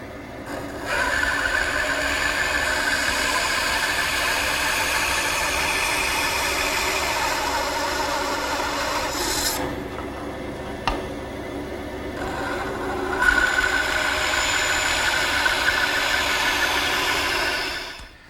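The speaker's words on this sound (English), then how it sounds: "Over here at the bandsaw, I'm going to make the end cuts for the tenon." A bandsaw runs steadily at close range while making tenon end cuts in wood guided by a miter gauge, a continuous whirring drone with brief changes as the blade bites into the workpiece.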